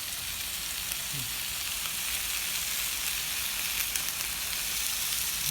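Meat grilling barbecue-style on a charcoal stove over a strong fire, a steady, even hiss and crackle of sizzling fat, close and continuous without talk.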